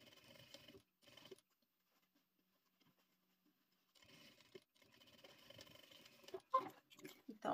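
A sewing machine stitching a straight seam on a small triple pencil case, its stitching coming in quiet bursts separated by near silence, with faint handling noises.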